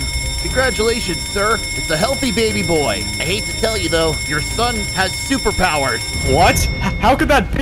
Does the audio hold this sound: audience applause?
no